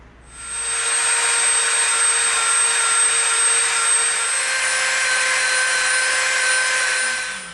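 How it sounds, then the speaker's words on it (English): A Dremel rotary tool rounding the edge of EVA foam, a steady high-pitched motor whine that starts abruptly and holds loud and even for several seconds before tapering off. "now we're going to Dremel the edge of it off so it's round at the top"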